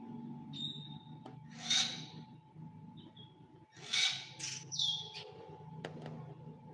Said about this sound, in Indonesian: Nah ini kan burung-burungnya tuh.